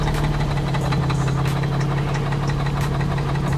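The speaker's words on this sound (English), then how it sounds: "The knocking noise, it sounds like the motor, but I think it's the transmission making that noise." A car engine idles with a steady low hum and a light, regular knocking tap close by, a noise that may come from the transmission torque converter, with no talking.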